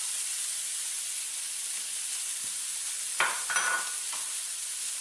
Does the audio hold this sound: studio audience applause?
no